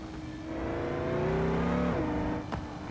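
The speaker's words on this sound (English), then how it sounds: "It's a great idea to have the V12." A V12 car engine in a racing video game revs up strongly with a rising harmonic whine, holds a steady high pitch, then drops sharply as it shifts, followed by a brief thump and a lower sustained drone.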